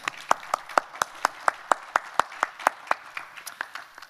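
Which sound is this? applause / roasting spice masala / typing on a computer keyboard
applause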